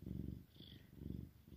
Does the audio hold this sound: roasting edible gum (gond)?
no